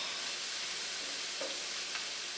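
Paella with smoked paprika stirred in a sizzling pan gives a steady, close frying hiss, with a faint scrape of the stirring now and then.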